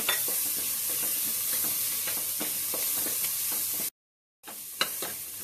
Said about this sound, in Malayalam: അതിന് പച്ചമണം വാങ്ങുന്നത് വരെ അത് വഴറ്റി കൊടുക്കാം